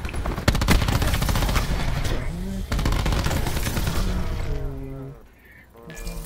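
Sustained bursts of rapid gunfire rattle through a multiplayer shooter game, loud and dense, with a couple of brief tonal game sounds near the end as the shooting fades.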